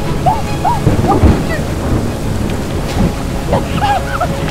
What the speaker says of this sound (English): Oh my goodness, it's thunder and lightning